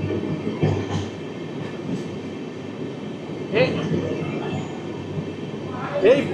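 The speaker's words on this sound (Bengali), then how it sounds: "এই টানেলের মধ্যে দিয়ে আমাদের ট্রেন প্রবেশ করবে জামালপুর স্টেশনে।" Amrit Bharat Express train running toward a tunnel near Jamalpur station, a steady rumbling roll of the carriages with brief squeals and bursts of louder rattle, heard from inside the moving train.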